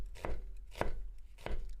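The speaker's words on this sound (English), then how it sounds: "just use your knuckles to kind of guide your hands, and then just cut slices" A knife chops through an onion on a board, roughly cut for soup, giving three sharp, evenly spaced cutting thuds about half a second apart, close and fairly quiet with no talk.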